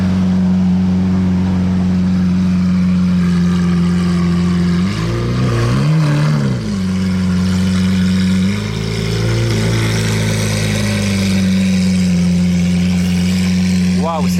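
Lamborghini Aventador S running with exhaust valves open, a loud, close, deep steady drone that swells in a couple of brief revs and blips before settling back, with voices talking over it.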